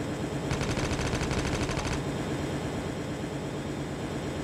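Rapid automatic gunfire in the mobile shooter Call of Duty Mobile, a dense burst of shots lasting over a second within constant loud game noise, with no talk heard.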